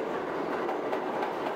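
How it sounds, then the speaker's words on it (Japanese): A New York subway train pulls into a station with a continuous loud rumble and faint rhythmic wheel clatter, steady throughout with no talk over it. "電車来ました。"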